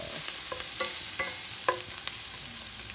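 Onions stir-fry in a wok over high heat, a steady sizzle broken by repeated metallic scraping and clinks of the spatula at an uneven rhythm.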